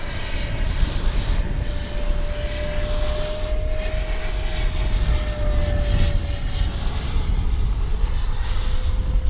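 Freewing 90mm J-10 RC model jet flying at speed, its steady turbine whine holding as a continuous, fairly loud roar with a high tone that shifts slightly as it passes overhead.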